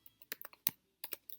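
Quick bursts of typing on a computer keyboard, a few light clicks followed by a brief pause and another short cluster, close and faint with no voices.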